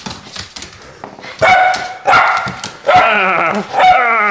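A dog barks in four loud, close bursts that swing between yelps and whining, with quieter rustling and clicks in the pauses between them.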